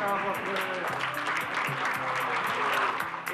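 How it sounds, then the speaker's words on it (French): Applause for children at a swimming event in Tahiti, a sustained patter of many hands clapping at a moderate distance, steady and fairly loud with faint voices mixed in. "On peut les applaudir"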